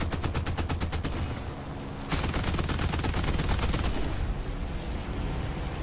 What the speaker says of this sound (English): And as far as guns from the outside, machine guns and cannons.